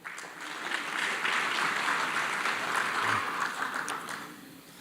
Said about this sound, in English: Another big applause, ladies and gentlemen.